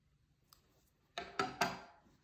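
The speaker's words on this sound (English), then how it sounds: "This long end here, I'm just going to cut." Scissors cut a long yarn end on a finished tapestry weaving, giving a faint early tick and then two or three close, crisp snips in quick succession.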